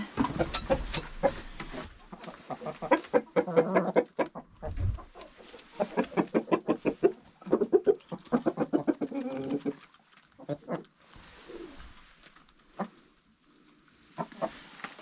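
Hens cluck steadily in a chicken coop during a spring thaw, with rapid, overlapping rhythmic clucks close by and people talking quietly at times.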